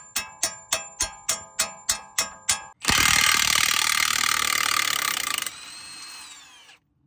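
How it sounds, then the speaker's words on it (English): A Milwaukee 1/2-inch drive impact gun breaks loose paint-crusted front brake bolts on a Ram Promaster 2500: eight rapid hammering bursts, then a long, loud continuous rattling whir that winds down and stops, close and alone. "You're gonna need a beefy impact gun like this. 1/2-inch drive by Milwaukee."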